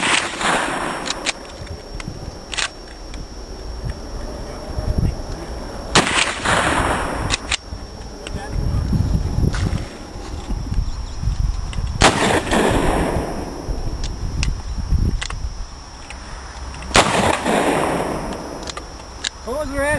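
Guns at a machine gun shoot in Red Wing, Minnesota, with loud, booming shots spaced several seconds apart, echoing outdoors, and people talking in between.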